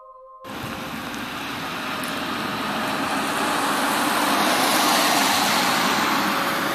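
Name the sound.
car driving fast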